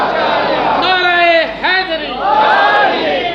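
A gathering welcoming Rabi ul Awal chants religious slogans: a massed crowd answers in loud, drawn-out unison shouts, several calls in a row with brief breaks between them, close and forceful.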